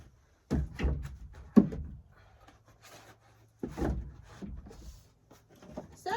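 Split firewood rounds are set down onto a stack in a few separate hollow wooden thunks and knocks, with quiet shuffling between them and no talk.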